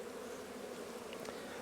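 Continuous buzzing of honeybees around sunflower heads, a steady drone of several insects close by with no other sounds.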